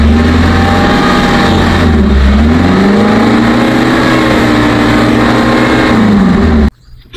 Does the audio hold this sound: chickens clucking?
no